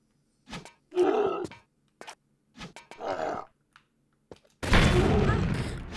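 Rocket launcher shots in Tomb Raider 3, a loud broadband blast erupting near the end after grunting, groaning creature or character noises spaced out across quieter moments.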